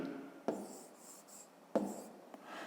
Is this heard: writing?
yes